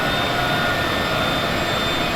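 Jet engine roaring in Microsoft Flight Simulator 2026, a constant loud broadband whine with a steady high tone, unbroken and close, with no voices.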